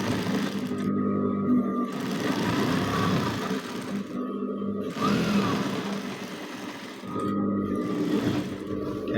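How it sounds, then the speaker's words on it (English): A sewing machine runs in three bursts as it double stitches a straight skirt's lining, its close, whirring motor stopping briefly between runs. "Let me sew it so that you understand."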